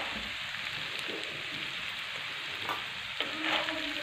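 Soaked sago being stirred into potatoes frying in oil, a steady crackling sizzle with occasional scraping stir sounds, moderately close and with no voices.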